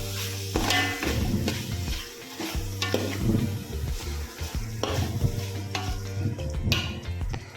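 Finely chopped raw tomatoes are stirred into hot oil in a pan for a village-style veg pulao, giving loud scraping spatula strokes and clatter over a crackling sizzle, with a low hum underneath and no speech.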